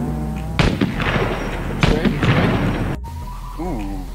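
Grenade explosions in the video game SCUM during a base raid: several loud, booming blasts in close succession, mixed with game noise.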